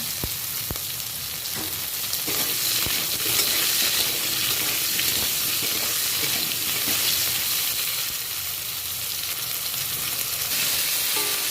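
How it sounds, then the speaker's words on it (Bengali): Continuous crackling sizzle of vegetables frying in oil, steady and close, with a few clicks of a utensil and no talking. "পটলগুলো ভাজা হয়ে গেছে"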